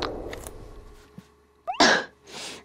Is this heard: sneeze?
yes